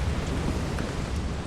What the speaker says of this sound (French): attention, il pleut.